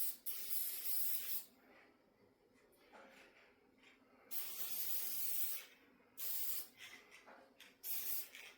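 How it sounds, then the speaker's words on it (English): Copper coat sealant hisses from a spray can onto a transmission gasket for a Deuce truck in three separate bursts, each a second or two long, close but fairly quiet, with near silence between. "So spray some copper coat on here on both sides."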